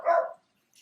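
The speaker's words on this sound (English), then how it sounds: "like that dog that's barking right now" One short, mid-loud dog bark, followed by near silence and a faint high squeak at the end.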